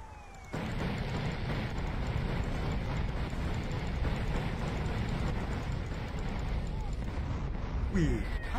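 Gunfire from GTA San Andreas during a Big Smoke mission breaks out as a dense, continuous rattle of shots over a constant roar. It stays loud throughout, with a voice mixed in at times.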